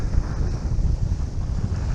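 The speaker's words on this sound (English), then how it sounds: "it's a little windy" Wind blowing across a beach sandbar, buffeting the microphone with a steady low rumbling roar and gusty fluctuations, with no voices.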